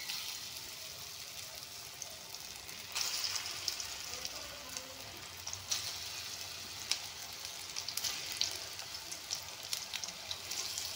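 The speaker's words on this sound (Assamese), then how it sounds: "এতিয়া ৰিফাইন গৰম হৈছে, পটলখিনি দি দিম।" Pieces of pointed gourd (potol) fry in hot refined oil, giving a continuous close sizzle studded with sharp crackles and pops that swell at moments, with no talk.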